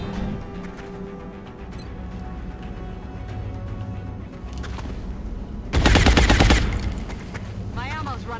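Video game gunfire from a squad firefight in XCOM Long War, a scattered mix of shots capped by a loud, dense burst of rapid automatic fire near the end, with a voice talking throughout.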